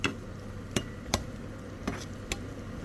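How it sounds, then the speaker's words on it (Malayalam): Ingredients for a chicken stew fry in a pan with a steady, close sizzle, broken by a handful of sharp knocks from a utensil against the pan at irregular intervals. "ആ അപ്പോൾ നമുക്ക് വറുത്തെടുക്കാം"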